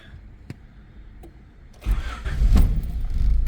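A Honda Concerto with about 240,000 km on it starts up after a few quiet clicks, the engine catching with a loud crank-and-fire burst and settling into a steady close idle.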